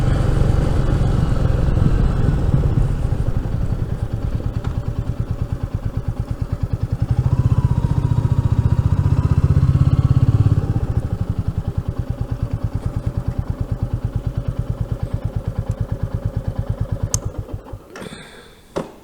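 A Royal Enfield Meteor 350 motorcycle engine idling close by with a steady, throbbing rumble that briefly swells before settling, then cuts off near the end with a clunk.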